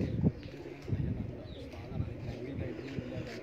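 A fancier's pigeons coo in soft, repeated low murmurs, with a few brief voices nearby and faint bird chirps above.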